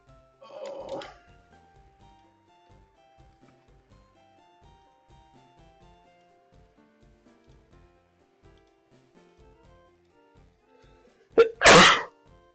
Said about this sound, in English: So I sneeze loud.